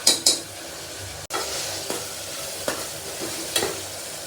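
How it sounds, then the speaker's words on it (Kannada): Tomato and garlic paste fries in a pan with a steady sizzle, while a spoon scrapes and stirs with several sharp clinks against the metal. "ಚೆನ್ನಾಗಿ ಫ್ರೈ ಮಾಡ್ಕೊಬೇಕು ಫ್ರೆಂಡ್ಸ್."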